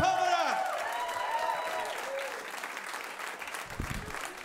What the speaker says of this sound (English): A big welcome, please, for Jesus Sepulveda. Clap your hands.